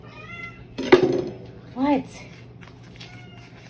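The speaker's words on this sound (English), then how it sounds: "Please excuse my cat meowing." A pet cat meows twice in a home kitchen, a sharp cry followed by a shorter rising one, close and fairly loud, while a person speaks briefly.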